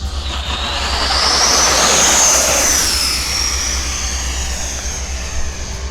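FMS F-16 70mm RC jet flying overhead outdoors, a loud steady ducted-fan whine that swells as it passes closest around the middle and then eases off, alone with no talk.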